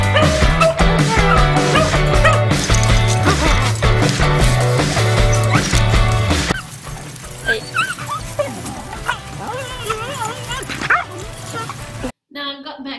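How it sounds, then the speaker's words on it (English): Dogs out on a walk in Australia bark, yip and whimper in scattered bursts, first beneath loud backing music and then more clearly once the music drops away, before a brief silence. "took advantage of the weather and decided to go for a walk with the dogs"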